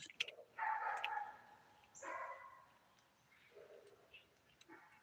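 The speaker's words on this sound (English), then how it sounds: "Sounds like that dog has a cat trapped." A dog barks a few times at a distance, short yelping bursts separated by pauses, fairly faint against a quiet background.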